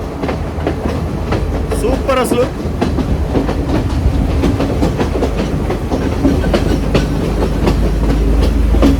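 A passenger train on a scenic route in Sri Lanka rolls along the rails with a steady, loud rumble and rhythmic clickety-clack heard from on board, while someone speaks briefly over it.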